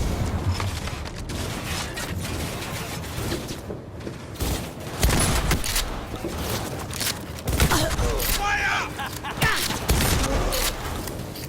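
Bursts of gunfire in the Cyberpunk 2077 video game, a dense ongoing fusillade of shots with booms and mechanical clatter, mixed with shouted voices and game sounds throughout.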